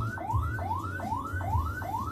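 An ambulance siren runs in yelp mode, rapid rising sweeps repeating about every 0.4 seconds, steady and moderately loud over a low engine hum.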